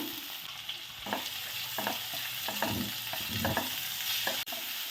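Chopped small shallots frying and being stirred in a pan for a Kuttanad-style duck roast, steady close sizzling broken by several scraping stir strokes, no talking.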